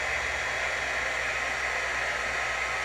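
A hair dryer blows steadily on a freshly painted paw-print craft piece, a close, constant broadband whoosh with a faint low motor hum that runs unbroken for the whole stretch, with no talking.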